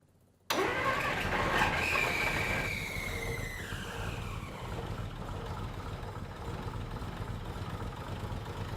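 An old Plymouth engine that has not run in 30 years cranks and bursts into life abruptly after a short silence, then settles into a loud, rough, steady running idle with a fading whine.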